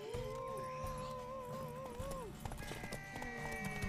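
Steady galloping hoofbeats of a horse in The Witcher 3, with a wavering musical or vocal tone and bustling effects layered over the rhythm.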